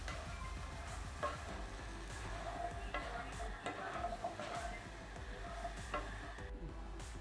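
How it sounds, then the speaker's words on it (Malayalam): Vegetable pulao being stirred in a pot, with a steady scraping and gentle stirring texture over a faint continuous sizzle, moderately quiet and without talk. "ഇനി നമുക്കൊന്ന് ഇളക്കി കൊടുക്കാം എല്ലാം കൂടെ"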